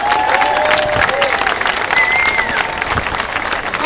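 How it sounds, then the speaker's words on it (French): A crowd applauds and cheers at an outdoor demonstration for Gaza in Montreal, loud dense clapping with some whistles and voices mixed in throughout. "S'il vous plaît, une main d'applaudissement."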